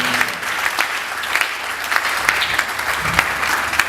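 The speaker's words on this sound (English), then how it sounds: "I want all of us to give him a wonderful round of applause for putting all this together" An audience at a workshop gives a round of applause, a continuous wash of many hands clapping at moderate volume without talk.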